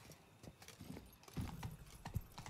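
Faint horse hooves clop in an uneven rhythm at a distance in The Witcher 3: Wild Hunt, quiet and slightly muffled, with no talking.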